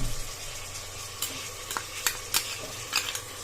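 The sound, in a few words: frying tomato, green chillies and ginger garlic paste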